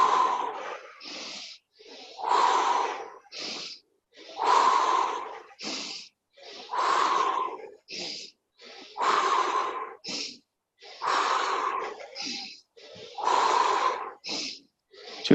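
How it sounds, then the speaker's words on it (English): A person takes repeated deep, rhythmic breaths during a guided breathing exercise, each long airy inhale followed by a shorter breath, about seven cycles in a close, quiet room. "So breathing in."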